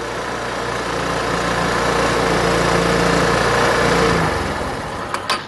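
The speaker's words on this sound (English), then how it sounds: "the scooter is running at 4000 RPM" A scooter engine held steady at 4000 RPM, a loud, even mechanical drone close by that cuts off abruptly near the end, leaving a few faint clicks.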